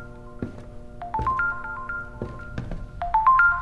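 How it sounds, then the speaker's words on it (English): A phone ringtone rings inside a horror video game, a repeating melodic electronic tune that returns in several bursts over a low rumbling background. "the phone's ringing."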